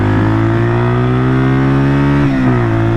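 A 1978 Kawasaki KL250 motorcycle with a newly installed carburetor roars at high, steady revs while being ridden, loud and close, with a slight dip and recovery in engine pitch near the end.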